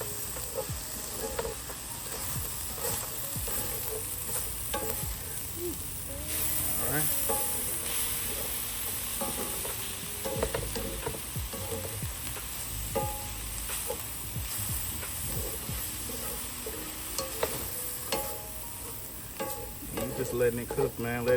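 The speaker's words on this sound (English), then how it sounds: "We can go ahead and start stirring it," Ground beef and onions frying in a pan for Cajun dirty rice, with a steady loud sizzle running throughout and frequent scraping stir strokes, plus occasional brief low voice.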